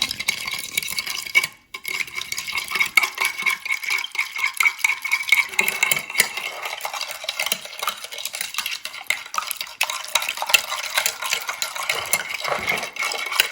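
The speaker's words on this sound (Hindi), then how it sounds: "दूध डाला, चीनी डाली, इसको अच्छी तरह आप मिक्स कर लें, बीट कर लें।" A utensil beats milk and sugar together in a bowl, making a brisk, continuous clinking and scraping that stays close and steady throughout, with one brief pause.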